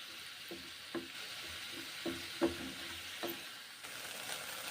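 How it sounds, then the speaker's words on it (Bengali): Thick semolina cooking with sour yogurt in a pan, giving a low, soft bubbling sizzle broken by a few gentle stirring scrapes and small pops, quiet and close. "নোনতা সুজি রান্না করছি দই দিয়ে।"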